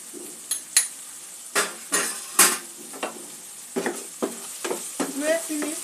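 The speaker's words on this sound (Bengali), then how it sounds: "2-1 মিনিট আর একটু কষিয়ে নেব।" Katla fish rezala masala being stirred and sautéed in a pan: repeated spatula scrapes and clinks against metal in an uneven rhythm over a low background sizzle, close and fairly loud.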